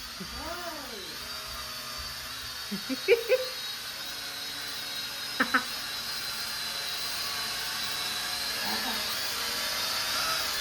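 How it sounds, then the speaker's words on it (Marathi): A thin, steady high-pitched whine of small motors runs throughout at moderate level, with a few brief clicks and faint background sounds. "सस्ते सस्ते का ड्रोन आहे ये"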